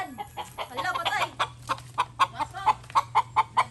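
Chicken clucking in a run of short, evenly spaced calls that grow more regular toward the end, close by over a low steady hum.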